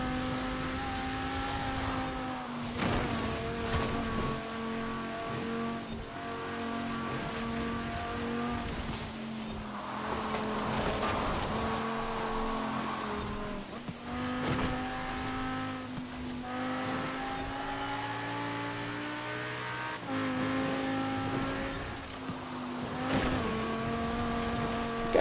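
Racing car engine in Forza Horizon 4 roars continuously at high revs, pitch climbing and dropping through gear shifts with brief lifts, loud and close with no talk.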